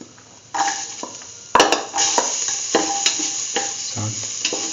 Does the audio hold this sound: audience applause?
no